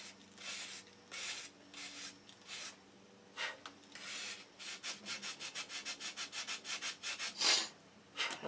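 Sandpaper rubs back and forth on wood for a boat build, a run of rhythmic strokes that speed up into quick, steady passes, close and fairly quiet with no talking.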